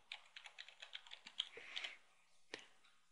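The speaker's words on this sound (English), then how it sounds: "Key in our admin username and password." An admin username and password are typed on a computer keyboard, close and quiet: a quick run of about a dozen key clicks, a short pause, then one last keystroke.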